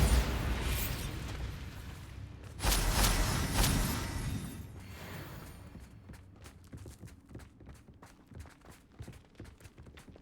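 A Bombarda explosion spell in Hogwarts Legacy bursts loudly at the start, followed by a second heavy blast, then settles into quieter rapid steps and scuffling of combat.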